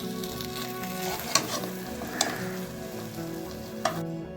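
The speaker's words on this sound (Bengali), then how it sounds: "বেগুনগুলো ভাজা হয়ে গেছে এগুলো তেল থেকে তুলে নিয়েছি" Eggplant pieces fry in hot oil in a wok with a steady crackling sizzle, broken by a few sharp clinks of a utensil against the pan, and no talking.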